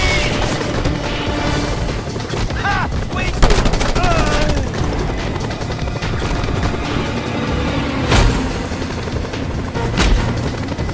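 Helicopter rotor drone mixed with bursts of machine-gun fire and crashing impacts in the video game Just Cause 2 during a casino raid, loud and continuous with a few voices shouting over the chaos.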